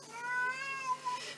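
A pet cat meows insistently for attention in one long, drawn-out, wavering call that rises and falls, loud and close, with no other voices.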